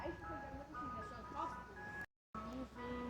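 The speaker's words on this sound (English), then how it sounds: "Matter of fact, it was actually like 3 ice cream trucks there." A Mister Softee ice cream truck in Philadelphia plays its jingle as a steady tinkling melody over street noise, with a brief dropout partway through.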